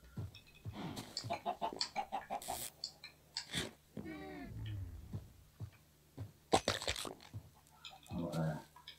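Chickens in the Minecraft modpack Stone Block 2 give several short clucks and squawks, mixed with other busy game sounds and clicks, with no talk.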